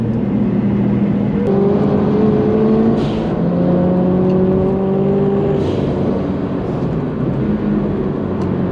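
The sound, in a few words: Subaru car engine revving on track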